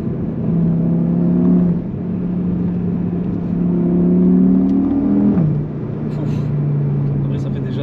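Audi RS3 2019 engine, 400 hp, revving in steady sustained pulls with a rising pitch before dropping back at about five seconds, loud and close, with people talking over it.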